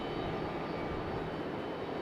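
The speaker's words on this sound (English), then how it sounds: "A321 from American Airlines" An American Airlines Airbus A321 jet passes near Raleigh-Durham International Airport, giving a steady, fairly faint broadband engine roar that holds constant through the moment with no voices.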